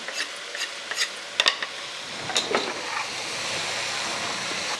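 Spices crackle and sizzle as they hit hot oil, a few sharp pops and stirring clatter at first, settling into a steady hiss.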